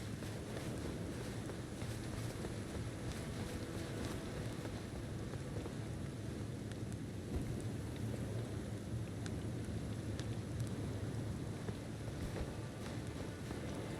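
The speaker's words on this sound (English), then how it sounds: "I really like the rain here." Steady rain with low rumbling wind and surf-like wash in Elden Ring: Shadow of the Erdtree on the Cerulean Coast, a continuous broadband hiss holding even for the whole stretch with no distinct thunder crack.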